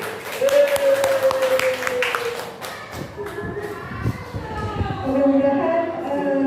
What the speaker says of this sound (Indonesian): Semoga tepuk tangan dulu.